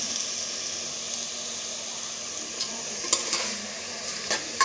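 Pepper chicken with green chillies frying in a pan, a steady soft sizzle with occasional scrape-and-clink stirring strokes near the end, fairly quiet and without talk.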